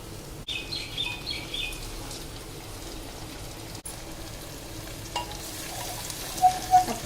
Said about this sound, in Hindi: अब कटहल को भी प्याज के साथ थोड़ी देर भूनेंगे।